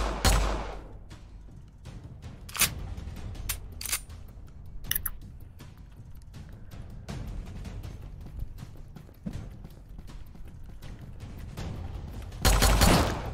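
Gunfire from an M19 in a Roblox duel, scattered sharp shots and short bursts popping at irregular intervals, with a louder burst near the end.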